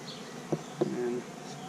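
A steady insect buzz of honey bees scooped into a jar, with a couple of brief knocks and a short higher tone partway through, fairly quiet throughout.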